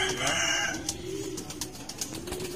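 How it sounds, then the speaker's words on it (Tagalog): Pigeons kept by a bird keeper coo in soft, repeated throaty calls close by, with quieter cooing and faint rustling around them in a rural yard in Nueva Ecija, Philippines. "Yan po, mga kalapate."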